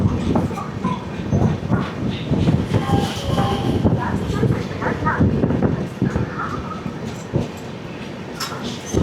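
Magadh Express, train 20801, rolling past Anand Vihar station in India, a steady loud clatter and rumble of coaches on track with scattered sharp clicks, heard close from on board.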